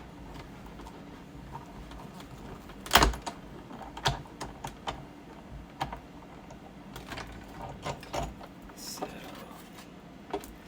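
A die cutting machine feeds a sheet of designer paper through, giving sparse, irregular mechanical clicks and ticks about a second apart over a quiet background, with one sharper clunk near the start.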